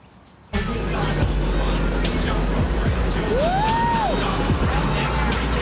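A new car driving along on a smooth ride, a steady engine and road rumble starting abruptly and continuing loud and even, with a brief rising whine partway through.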